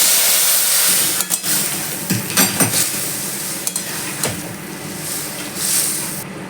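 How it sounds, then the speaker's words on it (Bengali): Dal poured into a hot tempering of dry red chilli and nigella seeds, starting with loud bursts of sizzling and splashing, then settling into a steady hiss with a few clinks of a ladle against the pan. "এবার আমি ডালটা ছেড়ে দিচ্ছি"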